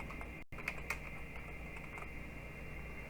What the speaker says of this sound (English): the first thing we're going to do is type the word yes